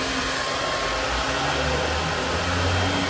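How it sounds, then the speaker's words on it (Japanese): A hair dryer blowing hot air while a vinyl wrap is applied to the curved surface of a car's bonnet duct, a loud steady whooshing drone running continuously throughout. "ドライヤーを使いながら"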